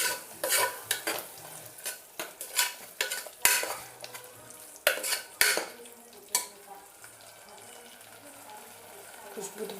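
A spoon stirring and mixing methi pulao rice in a pan, with repeated scraping and clinks of metal on metal over a soft sizzle, close and fairly loud.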